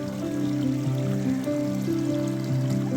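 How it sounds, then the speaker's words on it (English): Water running steadily at a stream water source along the Pacific Crest Trail, a continuous close rushing wash with no pauses and no voices. "I came across my first real nice water source"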